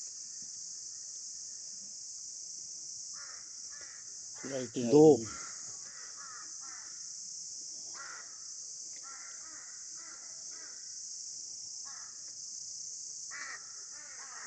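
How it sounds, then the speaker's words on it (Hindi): Crows caw in short repeated calls, some near and some farther off, over a steady high insect drone on a hillside trip to Thandyani; a brief voice speaks partway through. "और कौवे आना शुरू हो गए।"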